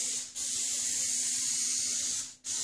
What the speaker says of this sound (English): And actually that's spraying better than it did before.